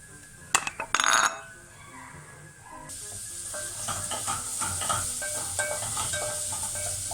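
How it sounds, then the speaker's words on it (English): Onions fry in just enough oil at the start of a chicken stew. A few metallic clinks come first, then a loud, continuous sizzle and hiss swells up close and keeps going. "So we'll fry the onions till they get to a golden brown color"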